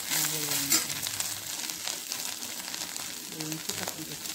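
Spice powder and salt sizzle steadily in a hot pan for a soya granules rice dish, a continuous close crackling fry with faint stirring scrapes and no talk.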